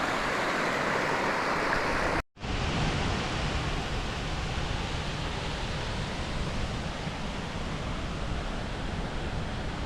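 A waterfall on Scotland's Cape Wrath Trail: steady broadband rushing water roars continuously, loud and unvarying, with one brief cut to silence near the start before the roar resumes.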